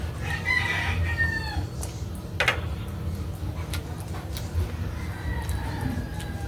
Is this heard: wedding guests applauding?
no